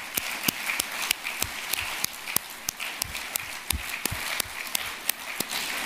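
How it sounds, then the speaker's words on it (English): Applause rises from an audience at a renewable energy event: a moderate crowd claps against a roomy background with a few sharp, distinct claps standing out. "Let's give a big applause to all of you for the great work that you are doing."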